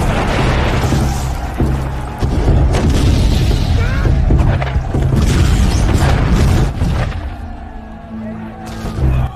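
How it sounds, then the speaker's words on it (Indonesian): Cannon fire in a historical battle between Thai and Burmese forces, heard as repeated loud, booming blasts over dense rumbling battle noise that continues with little pause. "segera memberi aba-aba serangan meriam pada musuh yang datang"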